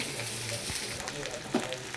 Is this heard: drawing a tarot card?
no